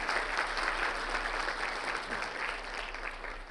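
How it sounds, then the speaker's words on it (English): Steady audience applause for a team of presenters, a dense wash of many hands clapping at an even level throughout, fairly close, with no talking over it. "Let's have another round of applause for my teammates."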